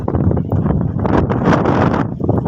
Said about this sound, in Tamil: காற்று ரொம்ப பயங்கரமாக அடிக்கும்.